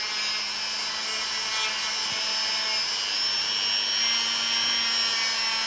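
A knife blade is ground with sandpaper on a rotary tool, a steady high-pitched whir and scrape that holds at a constant level, close and alone, with no talking.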